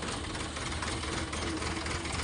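Farm tractor engine running at idle, a dense continuous rumble with a steady knocking throb, loud and close, with no voices over it.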